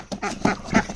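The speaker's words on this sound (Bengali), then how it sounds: "তো হাঁসগুলোকে এখানে রাখা হয়েছে," Ducks penned and waiting to be fed, quacking close by in a quick burst of three or four nasal calls within a second.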